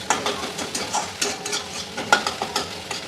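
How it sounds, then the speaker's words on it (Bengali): An egg fries in a hot pan, giving a soft continuous sizzle broken by quick, rhythmic scraping stirs. "আপনার সাথে কথা বলতে বলতে আমার ডিমটা ভাজা হয়ে গেল"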